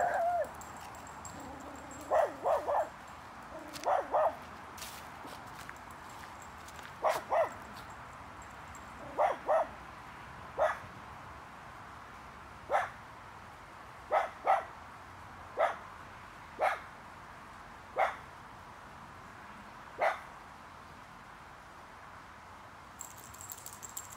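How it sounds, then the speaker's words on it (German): A dog on an autumn walk to the ponds barks wildly at another dog ahead, sharp repeated barks in short bursts at irregular intervals, fairly close and loud over quiet outdoor ambience. "Mogli steht hier und bellt wie ein Irrer"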